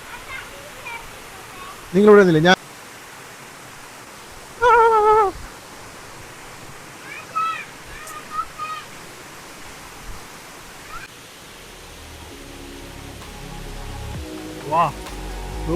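Water rushes steadily down a stream through the forest at Vagamon, making a constant broadband wash. It runs as a bed under a few short bursts of speech and a couple of whistles or calls.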